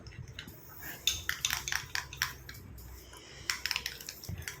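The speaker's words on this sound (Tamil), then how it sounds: "நல்ல ஸ்பூன் வச்சு நல்லா மிக்ஸ் பண்ணணும்" A spoon mixes a thick cream in a small bowl, producing quiet repeated clinks and scrapes in uneven bursts, close up and without talk.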